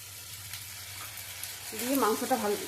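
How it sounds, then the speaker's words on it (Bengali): Paste of chili, cumin and ginger sizzles steadily in hot oil for chicken kosha, then swells louder with bubbling and spattering as the masala is stirred, a close, continuous fry with no talking. "দিয়ে মশলাটা ভালোভাবে কিছুক্ষণ কষাবো।"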